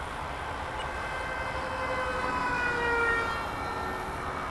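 A Freewing A-10 RC jet with a 64mm electric ducted fan flies past at part throttle, giving a steady, high, tonal whine that swells slightly as it passes nearby and then eases off.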